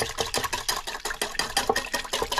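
A whisk beating a spiced egg white mixture with cumin in a bowl before it is tossed with peanuts, a quick, steady rhythmic scraping and clicking that sounds close and continuous.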